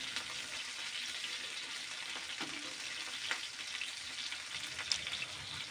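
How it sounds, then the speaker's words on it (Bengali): Poa fish, a fresh sea fish, frying in oil, already cooked on one side, giving a soft, continuous fine crackle at low volume with an occasional faint pop or utensil tap. "এই যে মাছও এক সাইড ভাজা হয়ে গেছে। এখন আমি এক এক করে সব উল্টাই দেব।"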